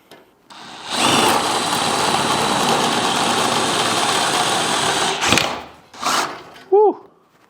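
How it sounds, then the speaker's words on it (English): A drill bores through the thin aluminium of a Humvee hardtop, giving a loud, steady whir for about four seconds before stopping, followed by a couple of brief bursts and a short squeak. "Or I could just drill it."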